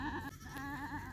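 Goats bleat repeatedly at close range on a village farm after days of rain, a steady wavering cry filling the whole moment with no talk.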